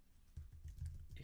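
Fingers type rapidly on a computer keyboard for a brief burst, a quick run of soft close keystrokes with no voices.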